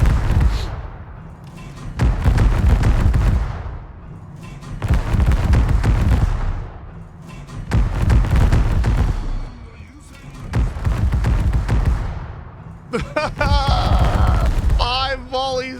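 The ship Chikugo fires repeated naval gun volleys in a naval combat game, heavy booming thuds rolling out at intervals with deep rumbling tails, while someone talks over them throughout.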